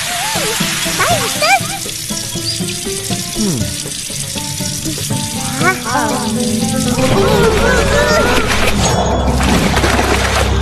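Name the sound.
running water from a tap during ablution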